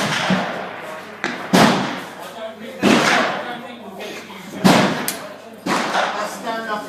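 A recoiling rifle fired on an outdoor shooting range, four or five loud sharp reports spaced about a second apart, each with a ringing decay, close by.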